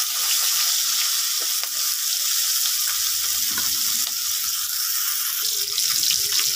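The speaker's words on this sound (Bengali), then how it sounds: "মাছগুলো দিয়ে দিচ্ছি বন্ধুরা, মাছগুলো ভেজে নেব" Koi fish frying in oil in a pan, a steady loud close-up sizzle that holds throughout, with faint occasional clinks and rustles underneath.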